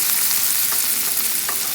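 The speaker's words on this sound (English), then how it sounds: "in my comal or cast iron skillet, I have some butter going" Meat frying in butter in a cast iron skillet or comal, heard as a loud, dense, continuous sizzle up close, with a few faint stirring scrapes and no voices.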